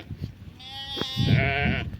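A goat bleats twice, a long wavering cry followed by a second quavering bleat, fairly close with light background noise.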